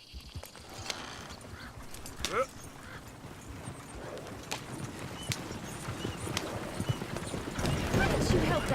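Horse hooves clip-clop steadily in the Red Dead Redemption 2 video game, a continuous trotting rhythm that is near and moderately loud, with game voices talking over it and the hoofbeats swelling toward the end.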